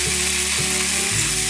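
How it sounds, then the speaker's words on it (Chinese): Carrots stir-frying in a little oil in a pan, a loud continuous close sizzle with the clatter of stirring underneath. "锅内放入少许油，放入红萝卜，把红萝卜炒至变色。"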